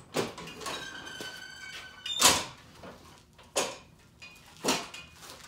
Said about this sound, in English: We go ahead and pull down the attic ladder